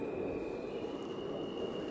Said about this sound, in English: Yes, there's a train.